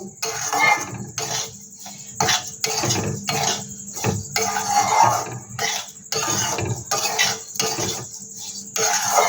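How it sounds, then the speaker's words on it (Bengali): Sugar is stirred in a pan over low gas as it melts, with repeated metallic scrapes and clinks of a spoon against the pan in an uneven rhythm, close and fairly loud, with short pauses between strokes. "এটা নেড়ে নেড়ে এই চিনিটাকে গলিয়ে নিতে হবে"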